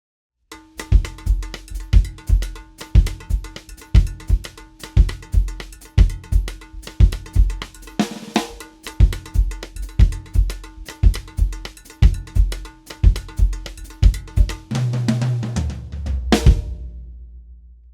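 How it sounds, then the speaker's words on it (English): A steady Cuban-style drum kit groove with a cowbell pattern on top and deep bass drum hits underneath, loud and close, ending on a final flourish. "really lay in to that boom, boom on the bass drum"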